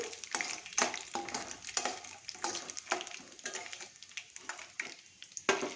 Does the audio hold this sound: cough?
no